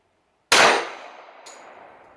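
A single sharp shot from a Remington-Rand 1911A1 pistol at an outdoor range, loud and close, with a short ringing tail, a faint later click, and no talk.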